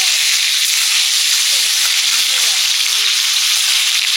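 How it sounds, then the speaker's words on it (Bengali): Pointed gourd (potol) slices fry in hot oil in a pan, giving a steady, dense sizzle throughout with a faint voice murmuring in the background. "পটল ভাজা আগে করে নিচ্ছি"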